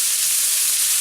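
Vegetables frying in a pan make a steady, close sizzling hiss that holds evenly for about a second, with no voices.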